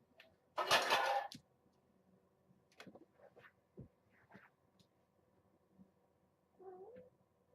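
Kittens meow close by, a loud rustling bump at the start followed by scattered small mews and soft clinks, with one longer plaintive meow near the end against a quiet room.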